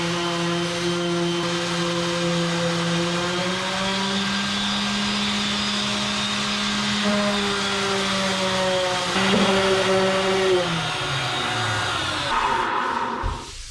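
A power sander works on wooden boat panels with a steady, loud whine that holds for over ten seconds, then winds down near the end. A shop vacuum may be running alongside it.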